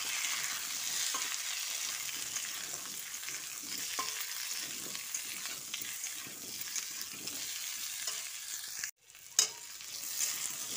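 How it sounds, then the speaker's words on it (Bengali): Potatoes frying with onions in hot oil while cooking an Indian-style fish curry with cauliflower; a steady close crackling sizzle with soft stirring scrapes and a brief clatter near the end. "আলুটা দিয়ে একটু ভালো করে ভেজে নিতে হবে"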